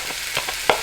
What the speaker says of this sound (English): We'll saute them first in this frying pan.